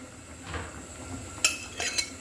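Fried bean seeds are added to a pot of fish curry, with a few clinks of a utensil against the pot and soft stirring scrapes, close and fairly quiet.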